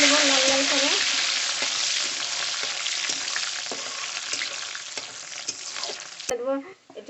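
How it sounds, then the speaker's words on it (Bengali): Onion and bay leaf fry in hot oil for a Bengali chicken kosha: a loud, dense sizzle that slowly eases, with a brief clatter and faint tonal noise near the end. "এখন তেলটা গরম হয়ে গেছে, আমি এখন একটা পেঁয়াজ দিয়ে দেবো। তেজপাতা দিয়ে দেবো, এখানে একটু ভাজিয়ে নেবো লাল লাল করে।"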